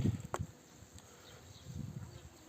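A soft, low hum of honeybees in a hive drifts through the background, faint and continuous, with a few light knocks and rustles nearby.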